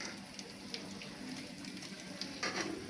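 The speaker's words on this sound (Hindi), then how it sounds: "और दूसरी तरफ ये मेरी उबल रही है स्पैगेटी।" Spaghetti boiling in a pot gives a steady, close bubbling and hissing wash with small pops and no voices.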